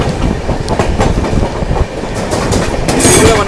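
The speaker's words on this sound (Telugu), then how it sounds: "Trivandrum central Secunderabad Sabari express, Sabari super fast" The Secunderabad–Trivandrum Sabari Superfast Express passes close by with a loud, continuous roar and rhythmic clickety-clack of wheels over rail joints, and nobody speaks.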